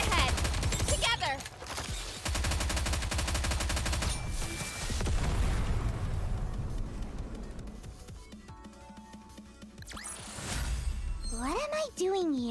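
Rapid bursts of gunfire in the Nikke: Goddess of Victory video game, loud dense volleys in several separated stretches, mixed with game music and effects, followed by quieter tonal sounds and a voice near the end.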